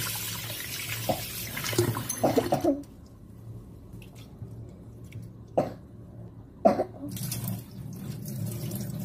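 Urad dal and fenugreek seeds get rinsed in water, giving a few seconds of splashing and sloshing, then quiet with brief isolated splashes and clinks as the grains are swirled and drained; no one speaks.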